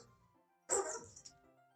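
A dog near a person's approaching hand lets out one short, loud snarling burst that fades over about half a second, with quiet before and after.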